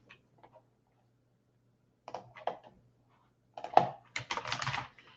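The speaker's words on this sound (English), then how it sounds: "I just keep typing their name." Soft, sparse keyboard typing in short bursts of clicks separated by quiet pauses, close up, with no voices.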